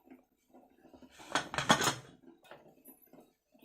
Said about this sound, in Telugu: ఇలాగ పప్పు గుత్తి పెట్టేసి బాగా రుబ్బేసుకోవాలి